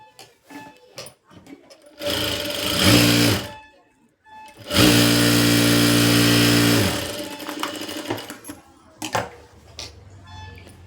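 A sewing machine stitches a blouse lining in two loud runs, the first about a second long and the second a steady two-second burst. Quiet handling noises fill the gaps between them, with no talk.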